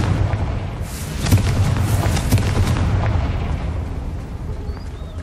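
A Confringo blasting spell in Hogwarts Legacy sets off a loud, sustained rumbling explosion with several booming bursts over a dense low roar, gradually tapering off.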